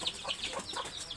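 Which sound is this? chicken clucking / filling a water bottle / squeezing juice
chicken clucking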